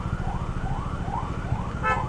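Ambulance siren wailing on a highway during a long motorcycle ride from Goa to Coimbatore, with repeated rising sweeps over steady engine and road rumble. It is fairly close and clear, with no talk.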